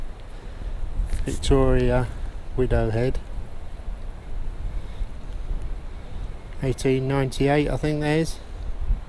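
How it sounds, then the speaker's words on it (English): Strong wind gusts roar continuously across a beach foreshore, buffeting the microphone loudly while someone talks over it in short phrases. "it's really windy now."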